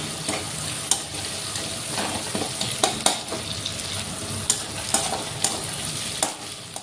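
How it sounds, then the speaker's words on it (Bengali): Chopped onion and garlic paste frying in a pan, a dense continuous sizzle close by, broken by occasional clicks and scrapes of a spoon stirring. "পেঁয়াজ কুচি দিয়ে নাড়াচাড়া করে"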